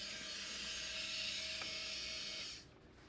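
A steady mechanical whir of a small election printer printing a test tape for a few seconds, with a faint click partway through, then stopping abruptly.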